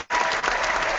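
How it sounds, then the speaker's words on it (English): Brief burst of hand clapping from an audience, starting abruptly after a short silence and holding a dense, even patter to the end. "they're getting all the hand claps like that"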